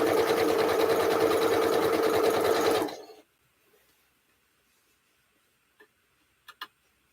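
A sewing machine runs loud and close in a steady, rapid whir for about three seconds, then stops, leaving near silence broken by a few faint clicks.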